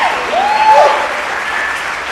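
A film festival Q&A audience applauds steadily throughout, a dense close wash of clapping with a brief whoop rising over it.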